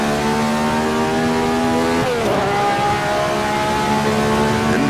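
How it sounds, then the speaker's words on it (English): A 1967 race car in Assetto Corsa at Monza's Parabolica revs its engine high and loud, with a sharp dip as it shifts down to second gear before the steady roar resumes. "Revving it really high there into 2nd gear into the Parabolica"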